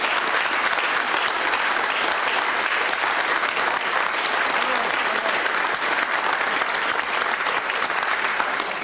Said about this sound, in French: I can attest to the fact that she is now fully bilingual, and that needs to be applauded